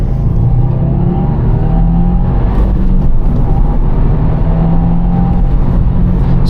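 A 2023 Subaru WRX accelerating on a rural back road, a loud continuous engine drone heard from inside the car that rises slightly in pitch as it pulls, with steady road rumble underneath and no talking.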